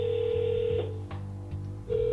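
A telephone rings on an outgoing call, a steady electronic ring tone that stops and then starts again near the end, heard alone and close.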